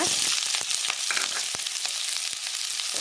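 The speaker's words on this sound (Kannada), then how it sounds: "ಎಣ್ಣೆ ಬೆಚ್ಚಾವಡು ಇತ್ತೆನಕ್ಕೆ ನೀರುಳ್ಳಿ ಪಾಡ್ಗ" Onion sizzling in hot oil in a pan for an egg green masala, a loud, continuous close-up sizzle broken by frequent sharp crackles and pops.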